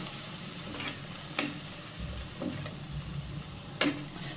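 Masala spice paste with chili powder and salt frying in a pan, a continuous close sizzle with occasional sharp scrapes and taps of a spatula as it is stirred, no talking.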